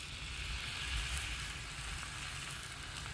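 Bacon sizzles on a Blackstone griddle with a steady, close hiss and crackle, constant throughout with no talking.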